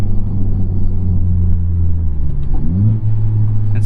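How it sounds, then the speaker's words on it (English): Honda Civic Type R FL5 with a Stage 2 Hondata tune pulling hard in second gear, a loud, steady engine drone and rumble with rising harmonics as revs climb, close and continuous with no talk. "Let me do a second gear pull."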